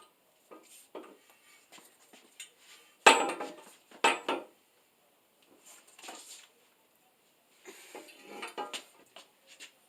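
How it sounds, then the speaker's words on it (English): Metal pipe legs screwed onto a table crossbar, producing sparse clanks and scraping metal-on-metal turns close by, with quiet gaps between bursts and no talking. "Screw the legs to the crossbar."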